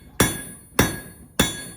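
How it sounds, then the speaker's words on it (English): A rounding hammer strikes hot steel tongs on an anvil during hand forging: three loud, sharp, ringing blows at an even pace about 0.6 seconds apart, each leaving a bright metallic ring. "Using a combination of my rounding hammer"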